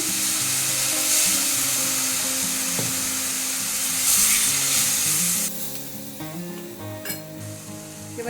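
Spice masala with Kashmiri chili powder and a splash of water frying in oil for a banana flower dish, a loud continuous sizzle with stirring scrapes, easing quieter toward the end.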